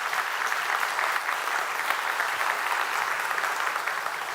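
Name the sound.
applause for the cadets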